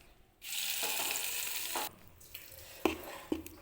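Mustard seeds are dropped into hot oil for a tempering, bursting into a sudden loud sizzle for about a second and a half. Quieter crackles and a few sharp spoon knocks follow.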